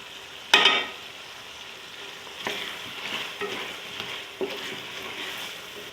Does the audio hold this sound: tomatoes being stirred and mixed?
yes